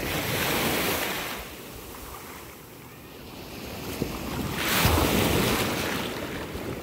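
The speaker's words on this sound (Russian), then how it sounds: "Уже третий день, волны небольшие." Small ocean waves wash onto the shore in loud, rolling surges, swelling again near the end, with steady wind buffeting the microphone throughout and no voices.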